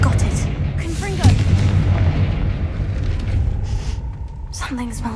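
A fiery Confringo spell blast from the Hogwarts Legacy video game erupts with a loud booming rumble and crackle, sustained and dense throughout, with game sound effects layered on top.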